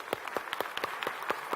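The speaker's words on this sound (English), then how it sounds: "let's give a big round of applause" A small audience claps for volunteers at an educational session on mangoes at a produce expo; sparse, separate hand claps sound fairly close and moderately quiet, loosely spaced rather than a dense roar.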